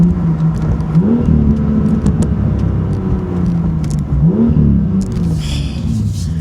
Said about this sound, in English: Let's give it a downshift.